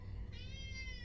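A pet cat meows indoors, one drawn-out, rising-and-falling call that starts about a third of the way in, moderately close over a low steady room hum.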